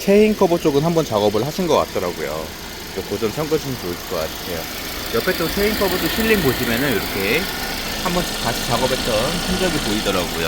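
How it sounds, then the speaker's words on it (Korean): A 2017 Kia K7 2.4 car engine idles with a steady, low, even rumble, heard faintly beneath someone talking continuously throughout. "엔진 소리 지금 이 영상으로 잘 들리실지 모르겠지만"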